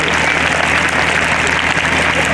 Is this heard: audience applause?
yes